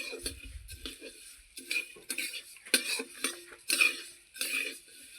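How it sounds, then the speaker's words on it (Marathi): Coriander seeds roasting in oil in a pan, stirred with a metal spoon: a series of clinking, scraping strokes in uneven bursts over a faint background, close and moderately loud. "त्यामुळे धन्याला सारखं असं हलवून भाजवायचं आहे चांगलं"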